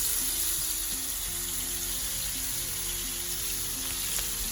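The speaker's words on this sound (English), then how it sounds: "you're going to fry the garlic until it is golden brown" Garlic frying in hot oil for curry shrimp, a steady close sizzle and crackle with faint stirring clicks and no talk over it.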